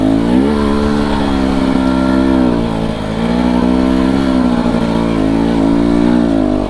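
A GasGas EC300 two-stroke dirt bike engine lugs and revs steadily while climbing a hill, loud and close, its buzzing drone holding for several seconds with slight pitch dips and no talking.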